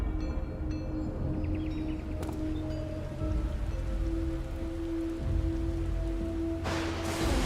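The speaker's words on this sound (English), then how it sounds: "Oh, it's raining now?" Rain falls in Final Fantasy XIV as a steady, even wash of hiss with a low rumble beneath, continuing at moderate level through the whole stretch with a faint tonal hum.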